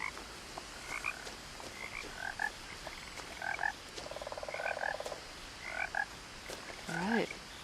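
Frogs croak repeatedly in the game What Remains of Edith Finch, a steady series of short chirping calls spread across the scene over a soft ambient bed, with no voices.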